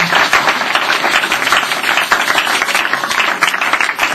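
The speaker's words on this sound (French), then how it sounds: "Acclamez très fort le Seigneur" An audience claps loudly and continuously in praise of the Lord, dense applause with scattered cheers and no talk over it.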